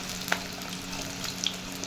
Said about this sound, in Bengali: চিকেনের টুকরোগুলোকে এখন ভাজা করে নিচ্ছি পকোড়ার মতো করে